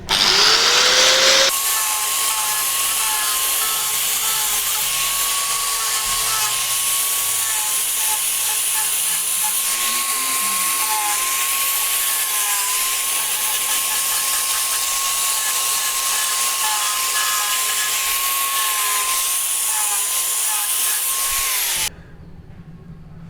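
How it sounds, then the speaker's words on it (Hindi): Angle grinder fitted with an emery abrasive disc roughening the cut end of a 110mm pipe, a loud steady whining grind running continuously for about twenty seconds before cutting off abruptly, close and alone. "तो यहाँ हमने ग्राइंडर में एमरी की जो ब्लेड आती है वो डाल ली, घसाई वाली। अब इससे हम इसको रफ़ करेंगे।"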